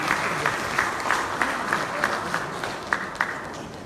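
An audience at a Korean literary forum gives modest applause, a moderate even patter of clapping with a few sharper claps standing out, no voices over it.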